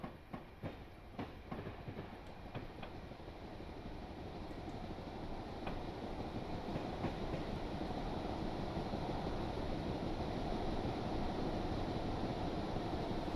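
A Union Pacific gas turbine electric locomotive rolls by in Cheyenne with a deep, steadily building rumble and clacking wheels, growing louder and heavier over time.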